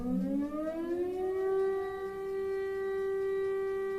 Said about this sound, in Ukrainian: Знову сирена. Чую, вже гуде по, по місту